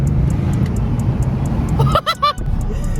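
Steady low car engine hum while driving, with a brief burst of higher tonal chirps or honks near the end.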